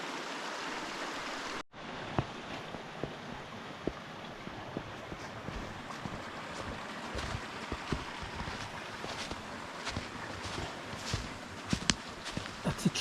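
Footsteps splash and crunch through a shallow river in wintry countryside, irregular near steps over a constant rush of flowing water, with occasional wind buffeting the microphone.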